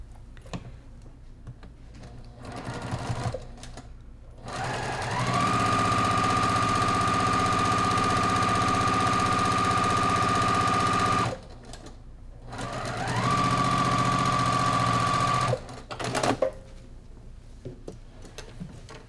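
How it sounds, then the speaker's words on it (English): A sewing machine stitches a quilt seam in two long, steady runs of close, loud motor whirring and needle clatter, with a short pause between them and no talking. "So, sew this."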